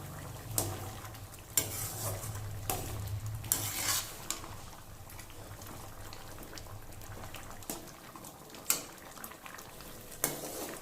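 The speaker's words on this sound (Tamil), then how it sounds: "இப்போ நல்லா கலந்து விட்டுக்குவோம்." A spoon stirs bottle gourd curry with ground peanut powder and paste in a pan, giving soft sizzling and bubbling with repeated sharp scrapes and clinks against the metal.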